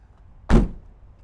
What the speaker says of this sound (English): Get these doors closed here.